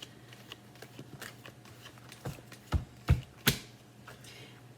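Tarot cards shuffled by hand in a quiet room, a soft riffling patter that builds into several sharper slaps and snaps near the end, close and fairly faint.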